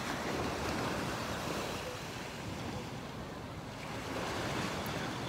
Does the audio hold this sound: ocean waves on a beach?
yes